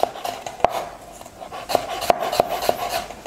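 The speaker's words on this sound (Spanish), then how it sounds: "yo voy cortando todas estas verduritas en julianita" Vegetables being cut into thin julienne strips for pakoras: a run of sharp, irregular knife strokes against a board, each a close, crisp tap over a steady rasping scrape, with no talking.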